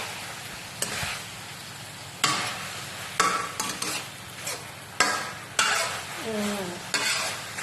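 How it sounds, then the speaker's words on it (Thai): Noodles and sauce tossed in an iron wok with a few drops of dark soy sauce sizzle steadily, broken by sharp scraping strokes of the spatula against the metal at irregular intervals, close and without talk. "คนผัดสีให้เข้ากัน"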